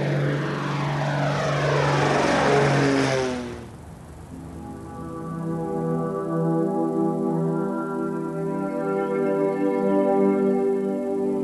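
A propeller aircraft engine runs up before takeoff at RAF Scampton in Lincolnshire, a loud close drone with strong harmonic tones that dips, then rises again as the revs climb. No talking is heard.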